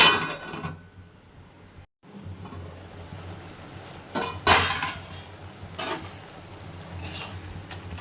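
A metal lid goes onto a cooking pot of taro leaves and prawns, with a few separate clinks and knocks against the rim spread over several seconds and quiet stretches between them.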